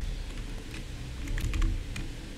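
Fingers tap on a computer keyboard in a quiet room, with scattered keystrokes, a brief quick burst near the middle and a final tap. No one speaks.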